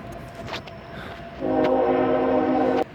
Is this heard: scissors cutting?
no